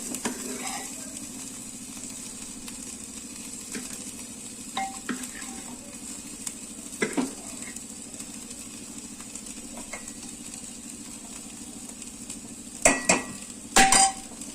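Mutton for biryani sizzles and fries in a pot, with a steady low crackle broken by metal spoon scrapes and clanks against the pot as the meat is stirred, and a few sharper knocks near the end.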